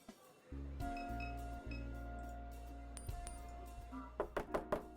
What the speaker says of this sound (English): Catherine knocks the door and hears a subtle sound of it unlocking.